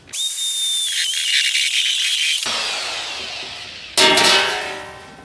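A power drill whines at high speed boring through a steel fuel tank, then stops, and after a brief pause a second burst of grinding drilling starts up loudly and close.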